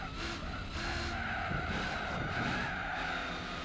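Race cars in Gran Turismo 4 skidding, a sustained tire screech over steady engine roar, fairly loud and unbroken throughout, no voices.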